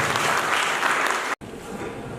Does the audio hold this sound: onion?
no